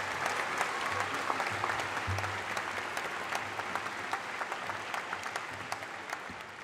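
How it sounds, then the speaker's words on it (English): Audience at a university convocation ceremony gives sustained clapping, a dense, even patter of many hands that fills the hall and slowly tapers toward the end. "Big round of applause to her."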